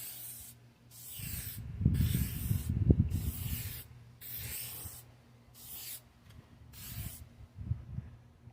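Short bursts of spray hiss come in a broken rhythm of about six passes as a coat is applied to a car headlight during restoration, with quiet gaps between them and a low rubbing murmur underneath.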